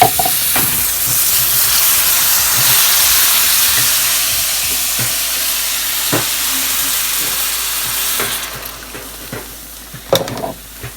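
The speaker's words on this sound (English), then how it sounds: "now I'm going to add in the tomatoes and the milk and just keep stirring it." Tomatoes and milk being stirred into a Southern tomato gravy in a pan, giving a steady sizzle and hiss with occasional soft scrapes and clinks, louder toward the end.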